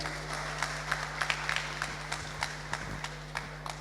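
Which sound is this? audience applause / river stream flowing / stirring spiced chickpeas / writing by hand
audience applause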